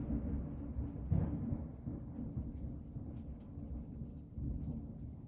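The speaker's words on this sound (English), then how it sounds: "That's a thunderstorm." Thunderstorm heard from indoors: a steady low rumble of rain and distant thunder rolls continuously throughout, with a few faint higher crackles and no talking.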